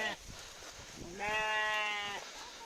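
A single clear bleat from a young lamb, close by, lasting about a second against quiet outdoor background noise.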